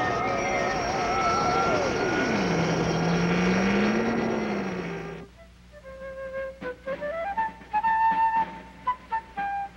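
Cartoon aircraft engines reversing for landing: a loud, sustained drone with a swooping pitch that dips and rises, cutting off abruptly into a sparse run of short tonal musical blips.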